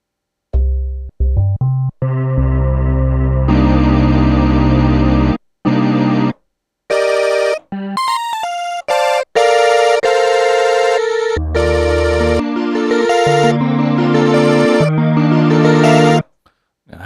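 Synth pad built from Super Nintendo samples, bright retro tones playing sustained chords and quick melodic runs with short gaps, loud and close, no voices.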